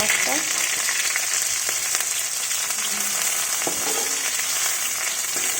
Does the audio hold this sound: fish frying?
yes